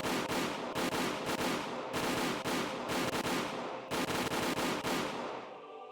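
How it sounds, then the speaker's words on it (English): Soldiers in the video game Higurashi When They Cry open fire on escapees, a dense, sustained volley of rapid gunfire in several bursts that fades out at the end, with no voices. "Sound of the gunshots echoed in the silence."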